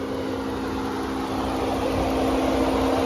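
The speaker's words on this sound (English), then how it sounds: "You can hear that fan kicking on right now, cooling everything down." Cooling fan on a Ram 1500 Rebel with the 5.7 L Hemi engine, a steady whooshing roar with a constant low hum, close and loud throughout without talking.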